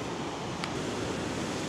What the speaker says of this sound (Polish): Tutaj widać, jak się rozbijają fale.